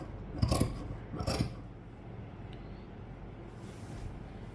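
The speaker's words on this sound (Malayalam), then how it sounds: "ഇനി നമുക്ക് ഇവിടുന്ന് അടിവീതിയിലേക്ക് കട്ട് ചെയ്ത് കൊടുക്കാം" Scissors cut through old nightie fabric in two brisk, close snips near the start. After that only quiet room hiss remains.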